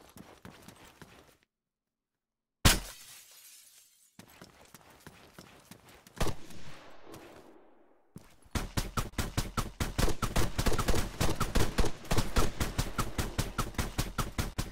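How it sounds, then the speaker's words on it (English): Gunfire crackles in the military shooter Arma: scattered shots with quiet gaps, then a long, loud run of rapid automatic fire that keeps pulsing to the end. "So my teammate is firing at the enemy"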